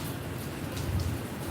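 Steady rain pours outdoors, a dense even hiss of drops on surfaces that stays constant throughout at moderate distance, with no voices.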